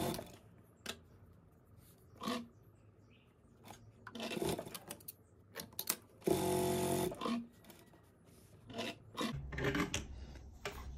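A sewing machine stitches a ribbon strip onto a quilt in short, rasping runs with many brief clicks and handling rubs between them, one longer, louder burst near the middle, all close and with no talk.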